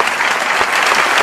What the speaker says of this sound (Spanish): la gente aplaude